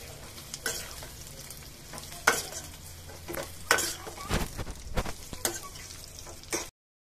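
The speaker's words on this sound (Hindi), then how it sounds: "मूली को हम 2 मिनट तक भूनेंगे।" Sliced radish sizzles in hot oil in a pan while a spoon scrapes and stirs it in repeated close strokes, a quiet steady fry under the clatter, cut off abruptly at the end.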